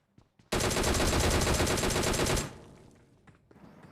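Automatic gunfire in PUBG Mobile on the Erangel map rips out as one loud, continuous burst for about two seconds after a couple of faint clicks, then decays into a quieter tail and scattered noise.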